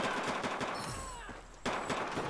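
Rapid automatic gunfire from a shooter video game crackles in fast bursts, a rattling stream of shots, a short pause with a ringing tone, then another burst, close and loud.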